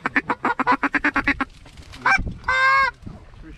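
Geese honk loudly nearby during a North Dakota duck and goose hunt: a quick rapid series of calls, then a brief pause and a couple of longer, harsher honks.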